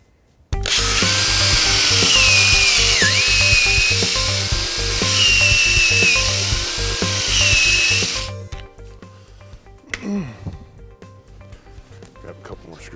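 A power drill drives a screw into a wooden shutter plank. The motor's loud, steady whine rises and falls in pitch for about eight seconds, then cuts off. Some clattering and handling sounds follow.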